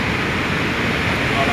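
A river at Theni Palayam, Tamil Nadu, swollen after two days of heavy rain, gives a constant, loud broadband rush of churning water close by.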